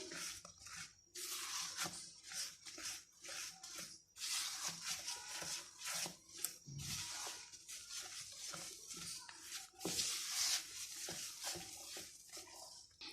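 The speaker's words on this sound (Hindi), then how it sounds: "और इसको हम अच्छे से मिक्स कर लेंगे।" Cake batter for a hot milk cake being mixed by hand in a bowl, with wet squishy stirring strokes and scraping in irregular bursts, close and fairly quiet.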